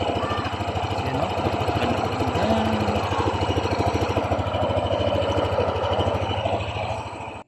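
Yamaha NMAX 155 scooter engine idling with a worn crank pin, a steady rapid mechanical thrumming and chopping rhythm like a helicopter, close and continuous throughout.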